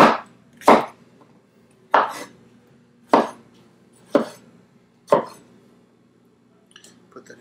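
A knife chops cucumber on a cutting board for a smoothie, six sharp separate knocks about a second apart, close and crisp with quiet in between.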